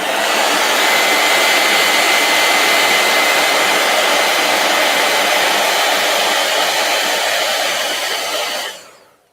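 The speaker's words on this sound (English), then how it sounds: "Heat gun." A heat gun blows hot air in a loud, steady rushing whoosh that runs unbroken for several seconds, close up, then cuts off abruptly at the end.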